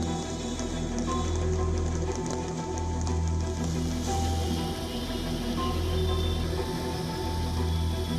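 A heavy downpour drums steadily and densely on surfaces, an unbroken loud wash of rain from start to finish during record July rainfall that floods parts of a city and the national capital region.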